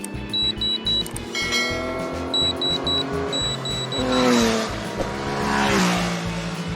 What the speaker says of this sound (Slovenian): Evo, avto vrhaja.